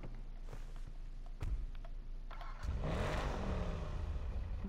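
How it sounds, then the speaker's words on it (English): A Mercedes-Benz V12 car in GTA 5 Online idles low, then its exhaust swells into a louder revving roar partway through, heard close with no talk. "I'll let you guys hear the exhaust on here."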